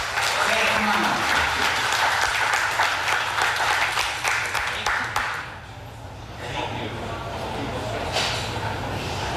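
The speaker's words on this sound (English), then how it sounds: "you're actually clapping for me" A crowd at an evening political fundraiser applauds a candidate for Illinois Secretary of State, steady loud clapping that thins out toward the end as a voice comes in.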